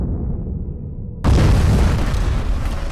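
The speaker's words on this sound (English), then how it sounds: "They reached the ship just as a gas explosion occurred around them." A gas explosion in caverns erupts suddenly after quiet low rumble, a loud deep boom that holds as a sustained roaring blast to the end.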